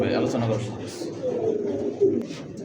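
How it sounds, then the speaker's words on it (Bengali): A pair of A-grade pigeons at a bird market, soft cooing heard close by beneath steady conversation between men. "ভাই এ গ্রেডের এক জোড়া কবুতর ভাই"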